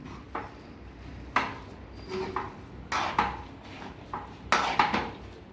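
Mango chutney with spices being stirred in a pan, a spoon clanking and scraping against the metal in irregular knocks every second or so, close and fairly sharp over a quiet background.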